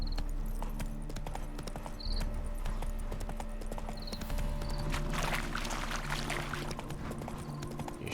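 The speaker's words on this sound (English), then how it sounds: "Spooking my horse." Horse hooves clip-clop at a steady walking pace in the video game The Witcher 3: Wild Hunt, close by, with a brief whinny and faint background tones.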